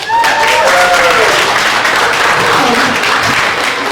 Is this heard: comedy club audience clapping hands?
yes